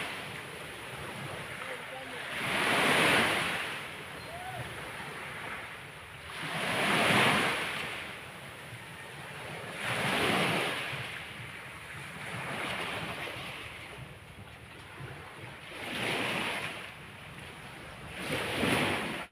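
Sea waves break near the shore in slow, repeating surges, each swelling and washing out roughly every three to four seconds, with steady wind noise between the breakers.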